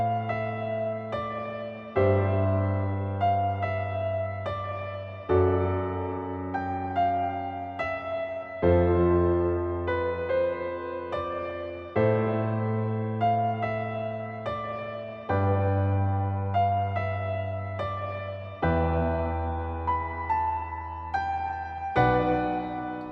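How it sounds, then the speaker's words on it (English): Sustained, washy chords swell and overlap in the lush, spacious reverb of the Stratosphere Cloud Reverb iOS app, changing every few seconds with no voices, forming a continuous ambient pad. "Today I'm going to show you one of my favourite reverb apps for iOS."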